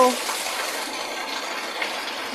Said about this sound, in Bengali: দেখো দেখো সবাই, কি জোর বৃষ্টি পড়ছে দেখো, একদম ঝর্ণার জলের মতো বৃষ্টি